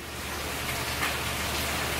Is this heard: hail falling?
yes